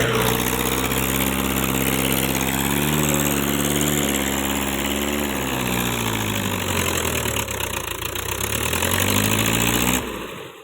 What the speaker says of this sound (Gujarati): તો ફાઇનલી મિત્રો આપણે ટ્રેક્ટર બહાર કાઢી રહ્યા છે,